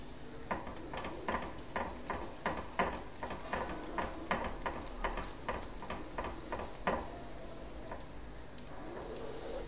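A chicken roll deep frying in oil in a kadai, with a soft bubbling sizzle under a quick series of sharp ticks and taps, fairly quiet and close, with no talking.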